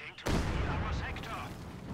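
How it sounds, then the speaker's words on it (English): Mortar rounds and gunfire boom continuously in a Company of Heroes 2 battle. A sudden loud onset leads into a sustained, rumbling barrage of overlapping explosions and shots, with voices faintly beneath. "Mortar rounds still flying around,"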